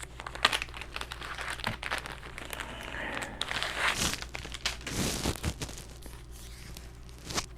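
A package of Masham wool fiber is opened close by, with continuous crinkling and rustling of plastic wrapping and some louder tearing crunches midway.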